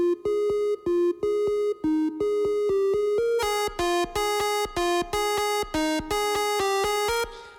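A plain electronic lead synth without distortion plays a quick melodic line of short clean notes, first thinner then fuller and brighter, alone and steady.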